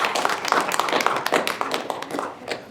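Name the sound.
applause for the new youth council officers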